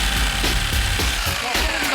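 A power tool bores a chimney pipe hole through a cypress sauna roof, a close grinding, rattling drone with rough rhythmic chatter that holds for the whole two seconds.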